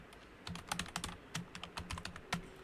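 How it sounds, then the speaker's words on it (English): Fingers type on a computer keyboard in quick, irregular bursts of crisp key clicks, close and fairly quiet, with short pauses between runs of keystrokes. "If I write here Mahesh Patil,"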